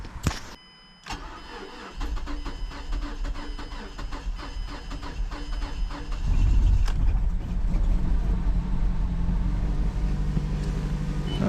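A car with a suspected fuel delivery fault cranks for several seconds in a steady whirring rhythm, then catches hard and settles into a loud, rough running idle close by.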